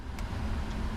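Boeing 777-300ER airliner in a flight simulator rolling forward under a little throttle, a steady low engine rumble close and even throughout, with no voices.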